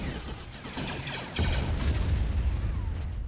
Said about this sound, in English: Commencing bombing.